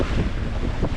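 Strong wind buffets a sailboat on a blustery winter day in Nantucket Sound, a dense, gusty roar close to the microphone with water noise under it.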